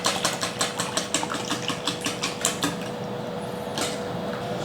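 Cream and freshly ground black pepper are whisked for a mushroom quiche filling, giving a close, fast rhythmic series of clicking, scraping strokes that run for about three seconds before stopping, with one more stroke near the end.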